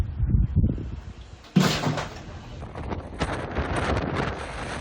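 Strong, gusty Hurricane Milton wind in Sarasota, Florida roars against the microphone, with a sudden loud blast midway and rough buffeting continuing throughout.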